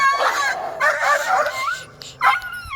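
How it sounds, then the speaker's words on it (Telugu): Adopted farm dogs close by give high yips and whimpers with a few short barks, loud and excited, in quick bursts with no speech. "సో ఇవి మా కుక్కలు, ఇవి మేము అడాప్ట్ చేసుకున్నాము 2019లో."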